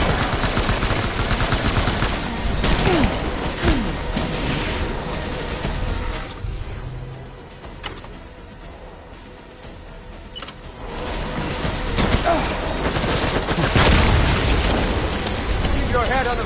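Gunfire in a PS4 video game sounds as loud, dense bursts of shots and booms that ease off into a quieter lull midway before the shooting returns.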